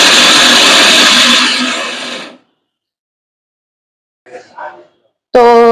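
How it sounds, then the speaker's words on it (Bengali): A blender whirs loudly and close while grinding washed nuts for chicken biryani, running steadily for about two seconds, then winding down into silence broken by a few faint clicks. "এখন এটাকে ব্লেন্ড করব।"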